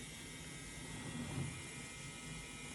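A TR900 toy jet engine runs with a steady, faint whine and hum as the throttle is raised, the tone swelling slightly midway through over a constant background hiss.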